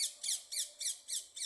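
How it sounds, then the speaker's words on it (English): Crows give about six harsh, quick caws in a steady, even rhythm, fairly quiet and somewhat distant against an otherwise calm background with no voices. "There's so many crows here"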